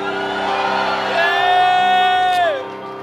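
A church congregation stands and shouts loudly to the Lord, a swelling mass of whoops and yells that rises, holds near and loud for a couple of seconds, then tapers off.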